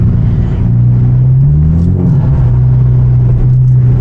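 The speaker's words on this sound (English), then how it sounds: "There's that turbo, bro." A loud turbocharged rear-wheel-drive coupe engine droning low and steady, rising in pitch as it revs and then settling back, heard from inside the car while driving in a snowy blizzard.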